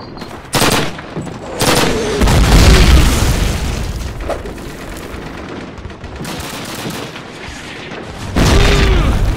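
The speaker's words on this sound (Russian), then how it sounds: "Треба кидать гранату, и он сразу повзрывается." Grenade blasts and gunfire in a Call of Duty battle, booming explosions and bursts of shots rolling through dense, loud combat noise with a few sharp peaks.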